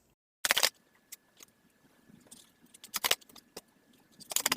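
Playing cards are shuffled during a card reading, heard as a few crisp, papery riffling bursts separated by quieter stretches with faint handling noise.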